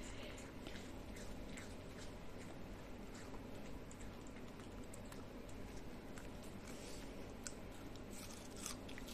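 A toy poodle crunches on pear, making repeated soft, wet bites and chewing clicks at a low, close level across the whole stretch, with faint background murmur.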